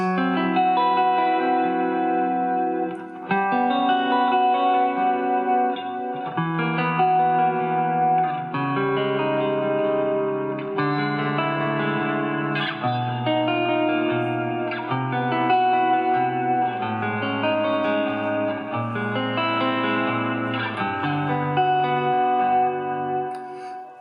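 Electric guitar strumming a quick series of shifting jazz chord changes, each ringing briefly with effects and a touch of reverb, played alone without voices.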